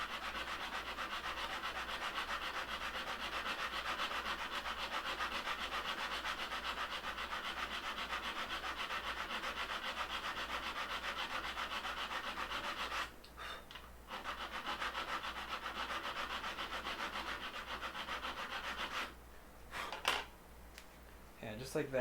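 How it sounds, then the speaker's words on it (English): Hand file rasping across an aluminum 2020 extrusion during a late-night 3D printer cube frame build, a steady continuous scraping that runs nearly the whole time, with brief pauses and knocks near the end. "It's just some quick hand filing."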